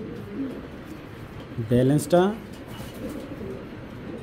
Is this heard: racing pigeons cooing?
yes